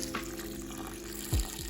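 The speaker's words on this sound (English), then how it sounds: "we just carefully pour this over the top of the grain" Water is poured carefully over the grain bed while brewing a Christmas spiced brown ale at home, a steady close splashing trickle with a small gurgle near the end and no talking.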